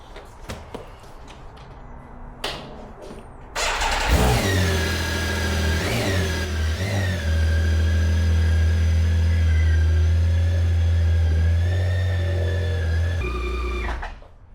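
A heavy, nearly 800-pound motorcycle parked in a garage during a snowstorm starts up after a few clunks, revs and then holds a loud, throbbing idle for about ten seconds before shutting off.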